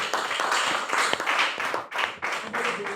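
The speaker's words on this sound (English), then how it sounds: "I think our chairman deserves another round of applause" An audience claps for the chairman at a pharmacy house event in Oyo State, a short burst of dense, fairly near applause without speech.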